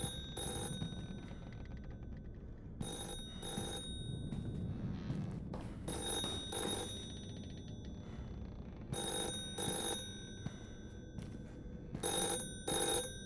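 A telephone bell rings repeatedly in the video game The Floor is Breathing, sounding in regular bursts with short gaps between them over a low, murky background drone.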